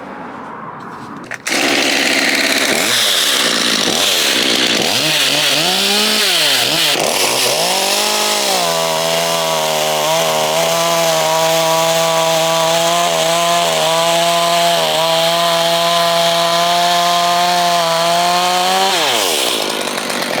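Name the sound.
chainsaw running with Panther chain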